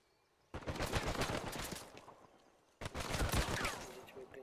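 Rapid bursts of automatic gunfire rattle in Uncharted 4 multiplayer, two dense volleys of rapid shots, the first fading out and the second starting abruptly after a short pause, fairly close and loud.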